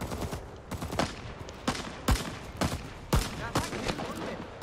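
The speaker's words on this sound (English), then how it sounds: "I chose the M2 carbine, basically the M1 carbine, but fully automatic" Fully automatic M2 carbine firing in Rising Storm 2 as an ARVN soldier, several sharp bursts of rapid shots with short gaps, loud and close amid battle noise.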